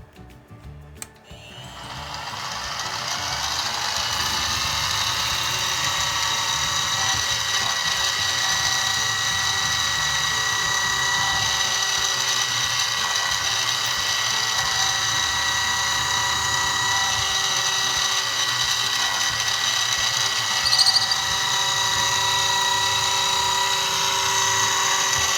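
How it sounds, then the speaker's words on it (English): A drill bit bores a hole down through maple on a mill, a steady high whine that spins up in the first seconds and holds for a long stretch, with one brief louder bump near the end. "cut a hole right down through using this drill"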